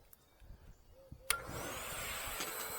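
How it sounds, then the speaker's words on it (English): A dedicated mobile car dryer on its low setting, drying the engine bay of a Toyota RAV4 Prime; a steady airy blowing whoosh kicks in abruptly partway through and holds at moderate level after quiet handling noises. "a dedicated mobile dryer like this one."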